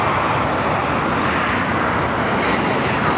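A Condor airliner takes off at Los Angeles International Airport, a loud, steady broadband jet engine roar filling the scene without pause, with no talk.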